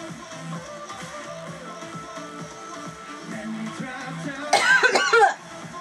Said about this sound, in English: It's made me cough.